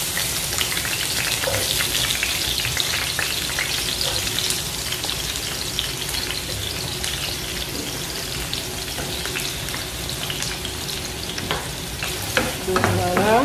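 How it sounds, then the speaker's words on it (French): Onions frying in hot oil in a pan, a steady close crackling sizzle throughout, with occasional stirring scrapes and small pops near the end, fairly loud with no voices. "Je vais frire mes oignons et par la suite je vais rajouter la tomate."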